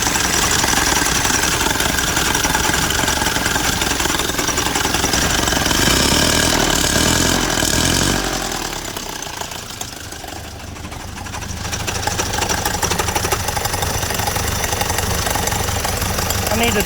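A 1928 Durant car engine runs after a crank start with a loud, rough, rapid chugging close by. It dips briefly midway, then picks back up.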